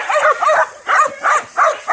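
Two large German Shepherd dogs barking close by, a loud run of about six sharp, evenly spaced barks and yelps with brief gaps between them.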